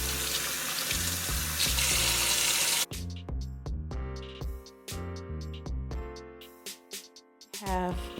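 Tap water runs into a sink while an old wig is washed, a loud steady gush at first, then broken splashes and drips as the flow is interrupted by handling.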